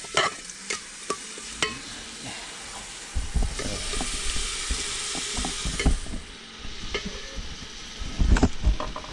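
Chillies and onion sizzle and fry in a pan over a village wood-fired stove for paya soup, with repeated scraping and stirring clicks from a spoon over a soft steady hiss.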